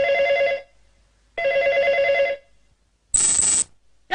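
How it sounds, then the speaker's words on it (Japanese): A telephone bell rings in clear, loud, repeated bursts, two long rings separated by silence. A short, higher-pitched ring follows, then another begins at the very end. "じゃあみんな、電話が鳴ったら取ってくれ。"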